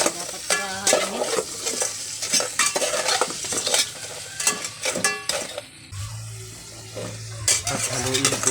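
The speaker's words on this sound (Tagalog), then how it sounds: "At haluin po natin ng maayos nang kumalat po yung margarine" Lobster and crabs fry in margarine while a utensil stirs and scrapes the pan, steady sizzling under repeated clinks and scrapes, close and busy throughout.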